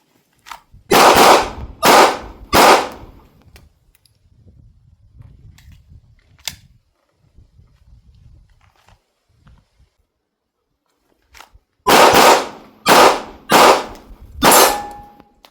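Rifle shots ring out during shooting training, three sharp close cracks in quick succession, then a quiet stretch with faint handling noises, and four more loud evenly spaced shots at the end.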